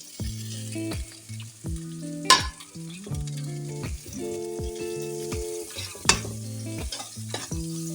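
Chilies sizzle in hot oil in a pan on low heat, a steady crackling fry with a few louder pops, while background music plays throughout.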